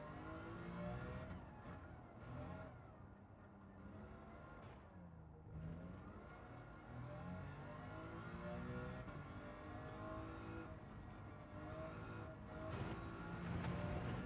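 A modified car engine in Gran Turismo 7 on PS5 revs and climbs through the gears with a harmonic whine, rising and dropping repeatedly at steady loudness throughout a weekly challenge race.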